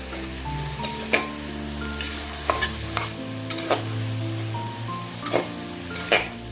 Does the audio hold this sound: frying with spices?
yes